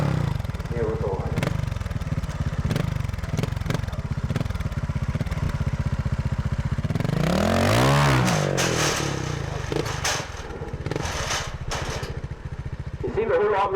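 A 1982 Fantic 200 trials motorcycle in second gear chugs over uneven terrain, its engine close and throbbing with a swelling rev midway, while someone talks over it.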